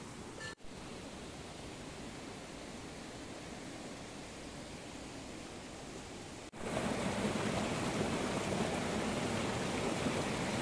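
A monsoon-season waterfall roars as a constant broadband rush on a hike, close and unbroken, with a brief click and a jump to a louder, fuller wash partway through; no talking is heard.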